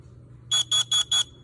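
A CanCOB LP2 smoke alarm sounds four loud, evenly spaced piercing beeps over a low background hum, with no voices.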